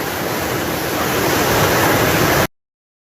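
Floodwater rushes like a river across a flooded road, a loud, steady broadband roar of churning water that holds constant and then cuts off abruptly.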